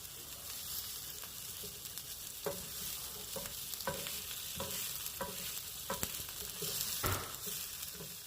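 Shrimp and cheese crisp on a griddle, a soft continuous sizzle broken by repeated scraping and stirring clicks from a spatula, close but fairly quiet, with no talking.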